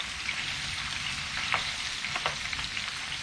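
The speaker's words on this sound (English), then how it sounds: "you could even break them up as you're frying them" Cauliflower fries in a pan with a steady close sizzle, broken by a few sharper crackles and stirring scrapes midway.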